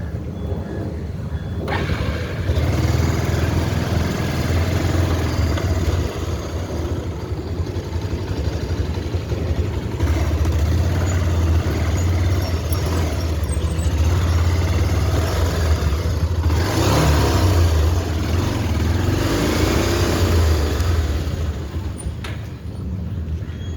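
A motorcycle engine runs steadily throughout, a continuous low rumble that idles and rises briefly in a rev, close by and fairly loud with faint background noise.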